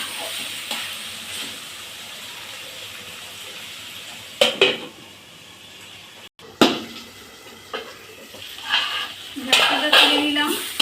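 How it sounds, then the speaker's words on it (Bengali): A lid lifted off a cooking pot of spicy-sour-sweet meat, with a few sharp metallic clanks and scrapes set apart by quiet simmering, close by. "ঢাকনাটা তুলে নিলাম।"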